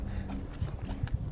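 Donkey hooves plod along a jungle-to-Andes trekking trail in Peru while the animal carries a heavy pack load, soft dull thuds in an uneven walking rhythm, fairly quiet and close.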